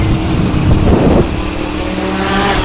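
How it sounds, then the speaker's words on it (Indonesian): A custom two-stroke motorcycle on a road on a windy day revs loud and close, with a raspy, buzzing engine note that rises sharply and then holds steady for a few seconds. "Emang 2 tak itu kalau di jalan nggak ada obat suaranya coy, candu banget."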